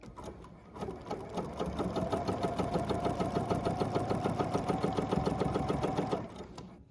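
Bernina sewing machine running steadily as it stitches fabric, a fast even needle rhythm that holds for about six seconds before stopping, close and clear with no talk.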